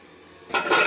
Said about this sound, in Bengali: এবার আমি দিয়ে দেবো ঢাকা।